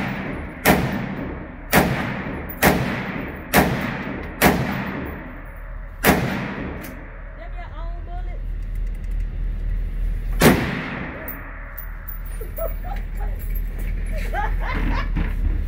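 Sharp, loud AR-10 rifle shots at an indoor gun club ring out one at a time, six in a steady rhythm and then one more after a pause, each with a ringing echo, as people talk between shots.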